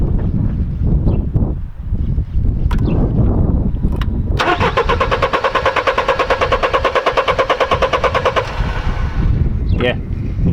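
Mercedes with a faulty crankshaft sensor cranking without starting: a loud, rapid, rhythmic starter whir churns for about five seconds and never catches, with people talking before and after.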